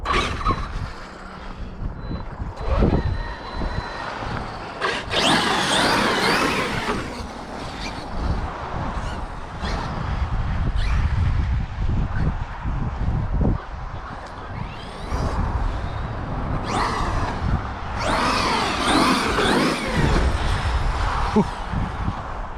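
A Traxxas X-Maxx RC monster truck with an 1100KV motor runs outdoors, giving a loud, continuous whine and rumble with repeated bursts of acceleration and wind buffeting the microphone.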